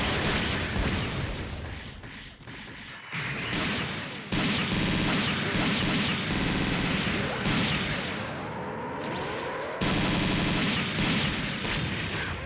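Dense rapid gunfire from a beam gatling gun in the video game SD Gundam Online, loud, continuous bursts overlapping with game effects and impacts, broken by brief gaps, filling the whole stretch.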